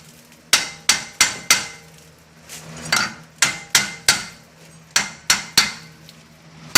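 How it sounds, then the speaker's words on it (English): Repeated hard hammer blows strike a seized, rusted-on rear brake rotor on a 2008 Infiniti G35x, loud metallic clanks in irregular bursts of two to four hits with short pauses between. "we hammer all over the place"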